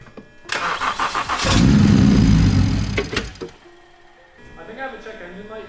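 A BMW 335i engine is cranked and starts after injector work, rising into a loud, close roar that settles and fades to idle, with voices faintly present.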